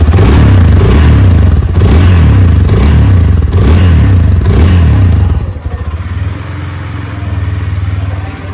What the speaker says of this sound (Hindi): यहाँ पर आपको इंजन के सेल्फ स्टार्ट का बटन है सबसे पहले आप इसके साउंड को सुने